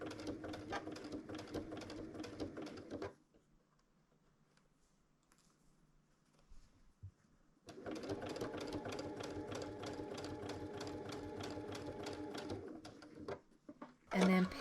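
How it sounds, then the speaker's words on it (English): A sewing machine runs in quick rhythmic bursts, stitching prairie point triangles onto a background fabric square with a quarter-inch seam; a steady mechanical whir stops for a few seconds, then resumes and runs on at close range. "We'll stitch the Prairie Point triangles to the background square with a 1/4-inch seam allowance."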